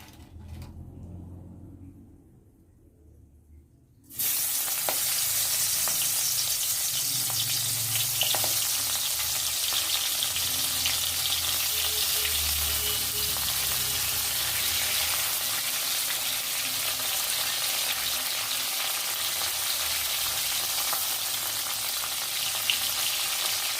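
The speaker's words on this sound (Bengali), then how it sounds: "আমি এবার চিংড়ি মাছগুলোকে নুন হলুদ মেখে এক এক করে ভেজে নেব।" Salt-and-turmeric-coated prawns fry in hot oil in a wok, a steady loud sizzle that kicks in after a few quiet seconds and holds unbroken with faint low stirring bumps underneath.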